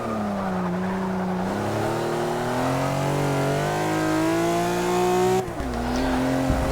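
A Dodge Challenger Hellcat racing a lap in Forza Motorsport 6, its engine holding a loud, steady high-revving drone that climbs gradually, then dips abruptly near the end as the car twitches and recovers; no talking.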